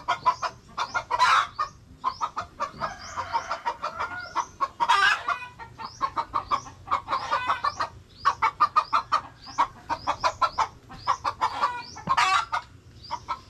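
Several chickens cluck in a steady, close chorus of short repeated calls, with no voices over them.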